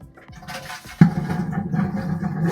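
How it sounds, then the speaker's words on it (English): A powerful vacuum toilet on a Royal Caribbean cruise ship flushes with a sudden loud whoosh about a second in, followed by a steady rushing roar that continues to the end. "I want to show you how powerful these cruise ship flushes are."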